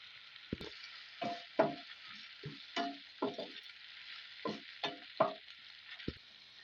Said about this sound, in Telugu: దీన్ని కాస్త ఒక 30 సెకండ్స్ బాగా నూనెలో వేయించుకుందామండి